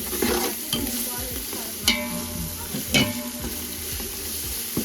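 Ginger garlic paste stirred in hot oil in a pan for quail biryani, a steady sizzle broken by repeated scraping strokes of the spoon and a couple of sharper clanks against the pan, close and without talk.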